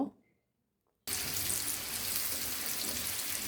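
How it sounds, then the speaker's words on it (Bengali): Coated chicken pieces frying in plenty of oil in a frying pan: after about a second of near silence, a loud, steady, hissing sizzle starts abruptly and carries on without a break. "একটা ফ্রাই প্যানে পর্যাপ্ত পরিমাণ তেল দিয়ে মাংসের টুকরাগুলো দিয়ে ভেজে নিব।"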